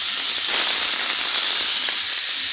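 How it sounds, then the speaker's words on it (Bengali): Chopped onion frying in a hot pan for chowmein, a steady loud bright sizzle and hiss running continuously without a break. "পেঁয়াজটা ভেজে নেবো"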